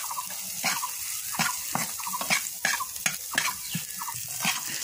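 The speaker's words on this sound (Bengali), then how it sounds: "ছোলাগুলো ঢেলে দিলাম, এখন একটু নেড়ে চেড়ে রান্না করে নেব" Chickpeas fry with onion, chili, garlic paste, cumin paste, turmeric and salt in a pan, with a wet sizzle and rhythmic scraping stirs that land about twice a second, close and fairly loud with no speech.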